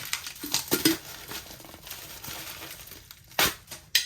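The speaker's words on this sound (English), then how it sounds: "As you heard, my ring just hit it." A ring taps against the glass carafe of a Paris Rhone coffee maker, giving a couple of sharp, bright clinks amid crinkling cardboard and packaging rustle during an unboxing.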